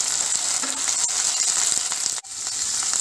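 Onion, green chili and ginger-garlic sizzle steadily in a hot pan as they fry, a dense, continuous crackle with one brief break in the middle.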